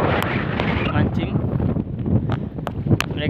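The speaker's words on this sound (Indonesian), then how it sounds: "Udah ngamuk angin yang di selatan ya." A strong south wind blows at sea during a fishing trip, a loud buffeting gust roar against the microphone with scattered thumps and bursts of noise throughout.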